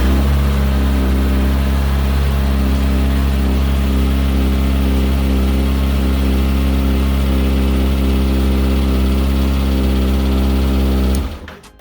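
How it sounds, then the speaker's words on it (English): A Kawasaki ZX6R motorcycle engine holds a loud, steady idle close by, its tone unchanging for about eleven seconds before cutting off abruptly at the end. "Then it says turn on and start the bike"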